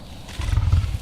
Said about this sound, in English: He's a white lion.